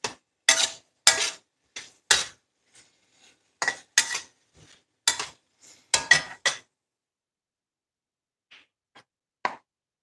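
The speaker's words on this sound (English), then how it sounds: "Check them, stir them as you go so nothing burns and sticks to the bottom of your skillet." A utensil stirring vegetables cooking down in a skillet gives sharp, distinct clinks and scrapes in an irregular rhythm, close and clear against silence, with no sizzle evident.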